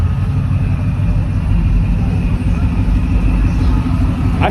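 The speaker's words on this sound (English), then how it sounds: "I hear a Pro Charger." Idling car engine fitted with a ProCharger supercharger at a Houston car meet, a steady low rumble running throughout, close and fairly loud, with crowd chatter mixed in.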